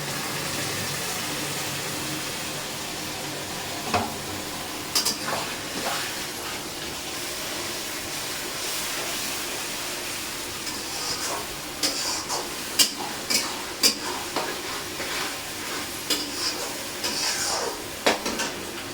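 A paste of ginger, garlic, cumin and green chilies sizzles and hisses steadily in a pan while being stirred, with scattered clinks and scrapes of a utensil against the cookware.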